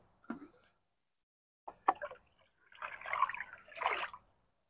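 A paint stick stirs a water and fertilizer mix in a container, making faint, intermittent sloshing and dripping sounds in short bursts separated by quiet gaps.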